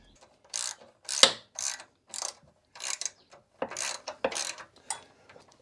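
A ratchet tightens an exhaust band clamp on a Jaguar V8 exhaust system in short bursts of rapid clicking, separated by brief pauses, close and crisp with no talking.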